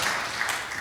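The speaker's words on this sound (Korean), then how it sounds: "깊은 감사의 마음을 박수로 표시해 주시기 바랍니다" Brief burst of audience applause at a church pastors' planning seminar after a lecture, a dense wash of clapping heard alone for under a second.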